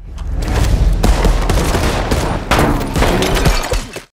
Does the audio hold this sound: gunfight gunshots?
yes